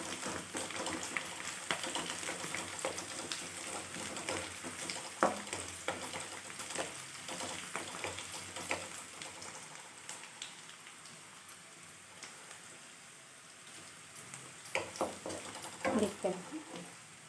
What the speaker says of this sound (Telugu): వెల్లుల్లిపాయ వేగిపోయిన తర్వాత కొంచెం వేగనిద్దాం.